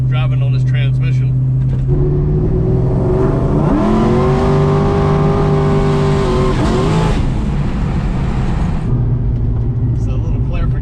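Ford Mustang Mach 1 with a 6R80 automatic transmission accelerating hard: a loud engine note climbs steadily over several seconds, holds, then cuts back to a lower drone amid constant road and cabin noise.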